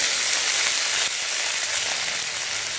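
Mustard seeds and urad dal sizzle in hot oil, a steady, bright crackling hiss with tiny pops, close and alone without talk.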